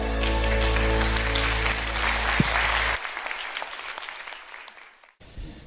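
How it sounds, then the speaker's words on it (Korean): Applause at a Korean church worship and praise gathering in San Jose, loud sustained clapping from a congregation that tapers off and stops near the end. "하나님께 영광의 박수를 돌려드립니다"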